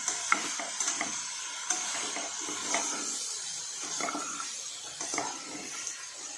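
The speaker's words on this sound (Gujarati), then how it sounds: "આ રીતે હલાઈ કાઢવાનું" Bottle gourd curry stirred in a pan with a spoon, giving soft repeated scrapes and light clicks over a steady faint sizzle-like hiss, close and fairly quiet, no voices.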